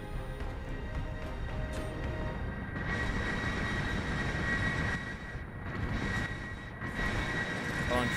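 A video-game aircraft launching and taking off, its engine building into a steady, loud roar that swells and holds for several seconds.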